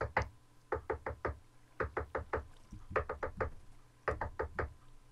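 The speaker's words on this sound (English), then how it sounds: "He's the guy who knocks." Rapid knocking in short bursts of three to four raps, repeated several times in a steady pattern, close and fairly loud with no voices.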